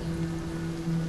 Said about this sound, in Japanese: ただの雨じゃない、これは透明で澄み切った雨。